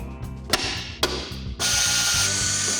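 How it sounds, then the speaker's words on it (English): A ratchet clicks rapidly in short bursts, then a steady run of fast ratcheting tightening a pivot bracket bolt on an old Ford F-150 axle, close and loud, with a low mechanical hum underneath. "we'll go ahead and get this pivot bracket torqued down"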